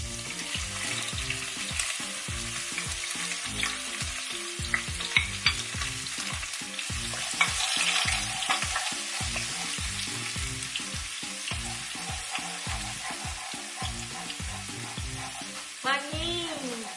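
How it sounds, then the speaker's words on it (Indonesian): Chopped garlic sizzles and crackles in hot olive oil in a pan while being stirred, a steady frying hiss with repeated spoon scrapes, close and fairly loud, for a homemade lasagna. "ini udah mulai panas minyaknya, kita masukin bawang putih cincangnya ya"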